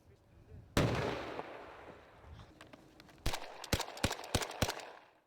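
A loud blast bursts out during a military engineering troops' training exercise with a smoke screen, followed by a run of sharp gunshot-like cracks and bangs, fairly close, over a faint rumbling background.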